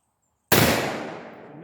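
A Colt 1851 cap-and-ball revolver fires a single loud, close shot outdoors, a sudden sharp blast that decays into a long rolling echo.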